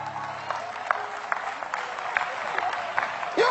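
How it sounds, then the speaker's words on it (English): Scattered clapping from a congregation during a sermon, moderate and uneven, with crowd murmur underneath and a voice rising sharply at the very end. "Oh, come on, clap anyhow."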